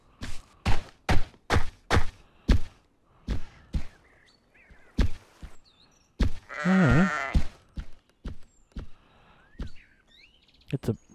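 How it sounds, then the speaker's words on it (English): In the survival video game Heat, a sheep gives one drawn-out bleat in the middle of a run of sharp, evenly spaced thuds. "Level 36 sheep."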